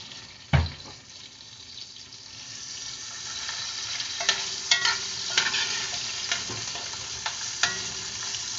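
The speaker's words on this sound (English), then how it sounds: "Add just a little bit of seasoned oil. Then we're going to toss that around in the pan." Food being tossed in a frying pan with a little seasoned oil, a sharp clank at the start followed by steady sizzling and light stirring scrapes, close and moderately loud with no voices.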